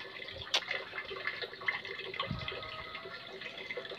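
Water poured into a pot of simmering chicken soup, a faint trickle and splash with a few sharp drips and clinks over a soft, steady background.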